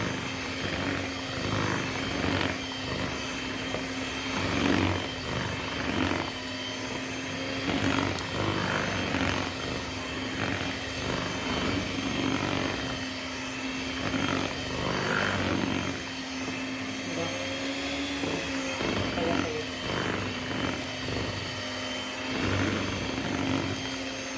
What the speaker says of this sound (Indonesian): kalau pakai mixer ya sampai terasa agak berat buat mixingnya